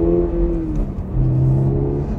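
A 2022 Toyota GR86 MFG Concept on a test drive, its engine droning steadily from inside the cabin and its tone climbing and shifting as it pulls away, with no talking.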